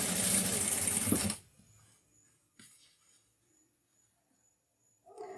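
Sewing machine stitching fabric, a fast, close, buzzing run for just over a second that stops abruptly, followed by quiet handling noises and a short restart at the very end.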